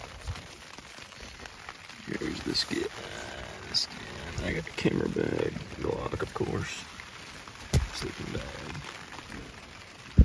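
Rain falling outdoors during an elk hunt in Colorado, a soft steady patter on gear and a camera bag close by, mostly under someone talking with occasional rustling and handling knocks.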